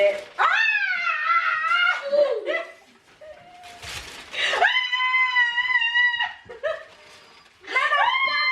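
A mother screaming with excitement while opening Christmas gifts, letting out several long, high, piercing shrieks separated by brief gaps, close and loud, with other voices talking in between.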